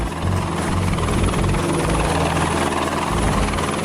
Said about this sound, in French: On est maintenant prêt à la charger dans l'hélicoptère et à la ramener à la base.